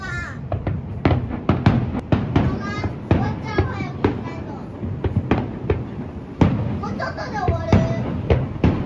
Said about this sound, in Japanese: ヒルトンの花火も こんな綺麗に見えます